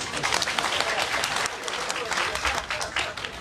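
An audience at a community meeting in Linkou, New Taipei, breaks into brisk, dense applause that holds steady for a few seconds.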